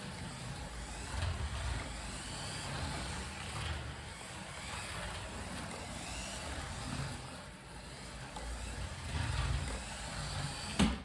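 A 1/28 scale VW Polo RC rally car with all-wheel drive and a solid axle whirs along steadily, its small motor giving a continuous buzzing drone with slight choppy fluctuations throughout, and no voices.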